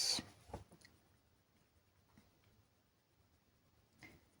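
Marker tip rubbing and scratching on paper while blending colouring, a faint close scribble at the start with a few light taps and strokes, then near silence with one more brief scrape.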